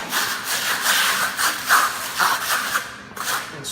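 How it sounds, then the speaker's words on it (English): A pull trowel spreads concrete overlay slurry across a wooden deck with a series of close, rough, gritty rasping strokes in an uneven rhythm. "start troweling it right into the surface here."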